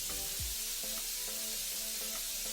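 Prawns frying in a pan for a prawn curry, a faint continuous sizzle with a low background hum and a few soft clinks.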